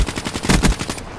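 Rapid automatic gunfire from the video game Black Ops 3, a loud, close burst of repeated shots in quick rhythm lasting about a second, with no talk over it.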